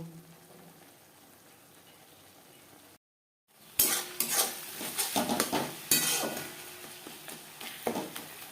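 Tomato spice masala is mashed and stirred in a pan, starting with a low simmering hiss, then after a brief silence, loud close clatter and scraping of a utensil against the pan in irregular bursts.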